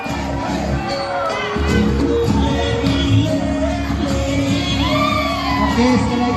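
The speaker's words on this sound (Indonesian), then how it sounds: "Boleh beri tepuk tangan yang meriah untuk kelas 2A" An audience at an Islamic school class event cheers for class 2A, a steady, loud crowd din of shouts and children's whoops with mixed voices throughout.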